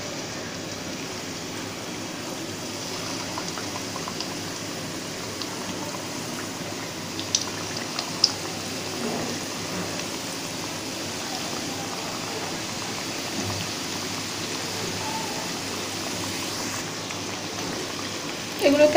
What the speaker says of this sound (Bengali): সিঙ্গারা তৈরি হয়ে গেছে এখন এগুলো আমি ডুবো তেলে ভেজে নেব তেল গরম হয়ে গেছে